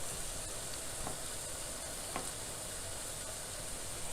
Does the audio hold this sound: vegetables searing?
yes